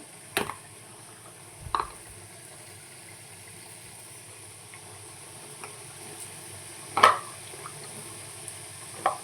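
Vegetables, including potatoes, drop into a pan of spiced fish curry with a few sharp clatters and splashes over a faint, steady sizzle.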